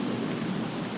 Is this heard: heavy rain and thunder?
yes